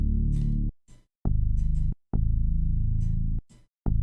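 Amapiano lead synth notes programmed in Caustic 3, a few loud sustained harmonic-rich tones each held under a second and separated by brief gaps, with short stabs between, no talking.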